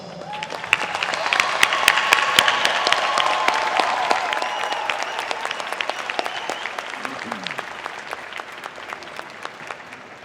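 Sustained applause from a large graduation ceremony audience, dense steady clapping building and holding for about ten seconds with a few sharp individual claps standing out.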